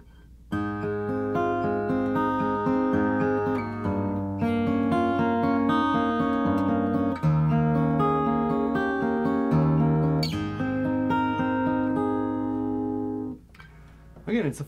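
A fingerstyle classical piece by Carcassi on a Dreadnought acoustic guitar, full and rich with prominent bass notes under the melody, played steadily and close with no talk, ending in a ringing decay.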